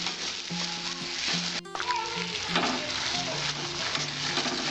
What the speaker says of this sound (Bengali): আর অল্প একটু হলুদ দিয়ে আমি মশলাটা কষাবো 2 মিনিট।